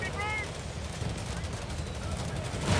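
A 17-pounder anti-tank gun fires in Company of Heroes 3, its shots mixed into a dense, steady din of gunfire and battle noise, with a louder report near the end.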